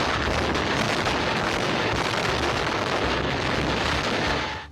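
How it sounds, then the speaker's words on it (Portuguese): Dynamite implosion of the old Detran building in Recife in 1978, a dense, sustained roar of blast and collapsing rubble, loud and continuous, fading at the end. "desde a instalação da dinamite no local até a explosão que reuniu"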